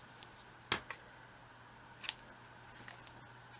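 Scissors snip through a knitting yarn tail in a few quick, faint, close clicks, spaced unevenly in an otherwise quiet room.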